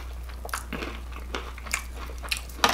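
Crunchy bites and chewing of Popeye's fried shrimp, a few sharp crisp crunches spaced irregularly up close, with a louder crunch near the end and no talking.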